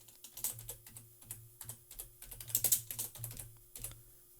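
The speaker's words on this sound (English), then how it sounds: "So just type in" Keys on a computer keyboard are tapped in quick, uneven bursts at close range, with a soft mechanical clatter over a faint steady hum. Nobody speaks.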